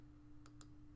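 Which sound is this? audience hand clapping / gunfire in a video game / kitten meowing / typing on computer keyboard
typing on computer keyboard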